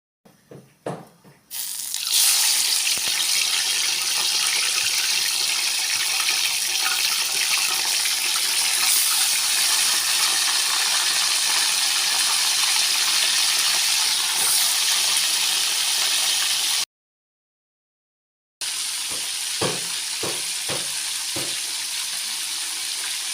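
Large catfish frying in hot oil: after a few brief clatters, a loud, steady sizzling hiss runs for most of the clip, breaks off in a short silent gap, then resumes with sharp crackling pops.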